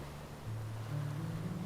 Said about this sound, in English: waves gathered far below,